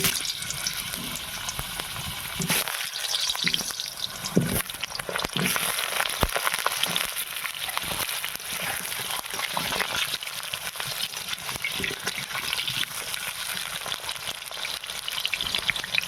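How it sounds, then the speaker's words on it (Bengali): Potatoes fry in white oil in a wok, making a continuous dense sizzle with watery crackle and hiss, steady and close throughout, with no talk. "আলুটা ভাজার জন্য আমি কড়াতে সাদা তেল দিয়ে দেবো"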